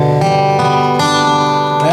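A wooden square-neck resonator guitar played with a metal slide bar in open tuning rings out with sustained, bright metallic chords that shift pitch with short gliding changes, loud and close with no talking.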